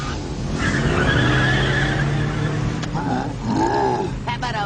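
Car tires skidding and squealing while the car is pulled in reverse against a 200-horsepower engine, a loud sustained screech with engine roar that dips and rises again near the end.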